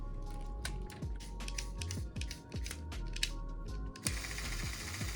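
A LEGO R2-D2 build's gear system clicks and whirs up close, a rapid run of ratcheting ticks and thumps over a low motor drone, shifting to a brighter grinding buzz near the end.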